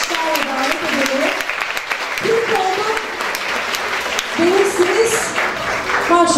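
Loud audience applause at a hospital's 25th anniversary celebration as a staff member is called up, continuous clapping with a presenter's voice speaking over it at times.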